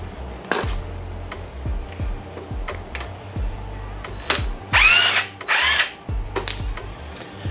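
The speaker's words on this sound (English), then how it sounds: "now you want to go ahead and use a 14 millimeter socket" A power tool with a 14 mm socket spins the upper strut nut off a fifth-generation Honda Prelude front strut held in a spring compressor, short loud whirring bursts separated by metallic clinks and ratcheting clicks.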